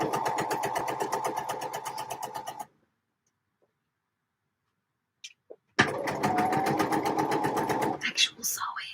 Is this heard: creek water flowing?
no